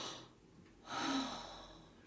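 A narrator of Le Petit Prince gives a voiced imitation of a yawn, a single drawn-out breathy exhale with a rising vocal tone, alone and close.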